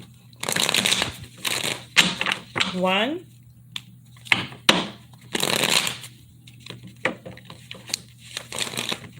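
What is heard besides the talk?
tarot cards being shuffled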